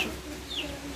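A hen clucks softly a few times on a farm, brief and fairly faint against a background hum.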